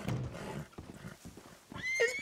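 A horse in the video game RedM lets out a whinny near the end, preceded by low snorts and shuffling hoof sounds, fairly close and without talk.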